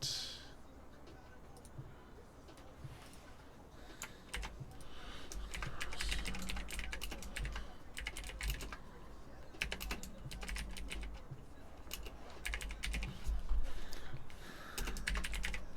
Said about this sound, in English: let's just type in search CrossFit